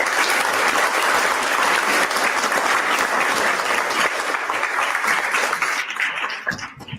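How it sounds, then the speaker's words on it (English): Conference audience applauding, a dense, loud wash of clapping held steady for several seconds before thinning out and fading near the end. "a round of applause."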